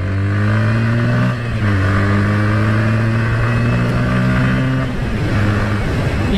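A Bajaj Pulsar N160 motorcycle revs hard under the rider's throttle, its loud, steady engine note climbing and holding in pitch with a brief dip midway, heard up close and with no voices.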